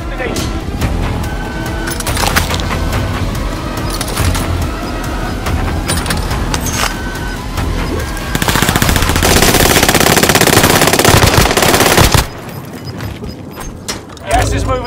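MP40 submachine gun firing in Warzone on Rebirth Island: loud, close, sustained automatic bursts with steady rapid shots, mixed with game effects and voices talking, ending in a quieter stretch.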